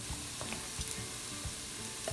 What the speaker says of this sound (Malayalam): എന്നിട്ട് നന്നായി വഴറ്റി കൊടുക്കുക. ഒന്ന് മൂത്ത് വരണം, അതുവരെ വഴറ്റണം.